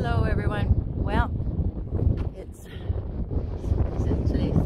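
Gusty wind buffets the microphone with a continuous low rumble on a cloudy day in Quartzsite, Arizona, and a person talks briefly over it.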